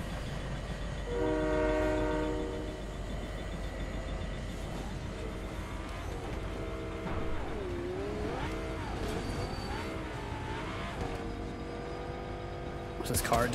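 A train in a video game rumbles past while its horn blows in a long chord, then the rolling rail noise continues and shifts in pitch as other engine sounds join, fairly loud throughout.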